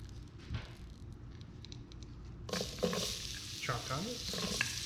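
Chopped onions dropped into hot oil for chicken lentil daal, a quiet low rumble that bursts into a loud, bright sizzle halfway through, followed by stirring scrapes over continuing crackle, close and without talk.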